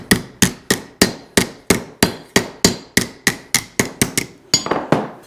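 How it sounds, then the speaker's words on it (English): A larger hammer strikes a copper jewelry cuff in a steady series of about fifteen sharp, ringing metallic blows, close and loud, at roughly three hits per second. "You can take your bigger hammer"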